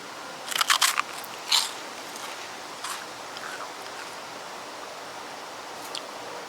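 A few sharp, crisp crunches up close as brittle freeze-dried candy is bitten, followed by quieter chewing crackles that fade into near silence.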